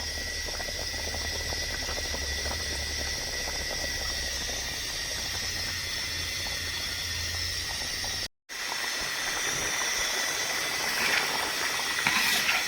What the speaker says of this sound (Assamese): আঞ্জাখন একদম মজাকৈ উতলি আছে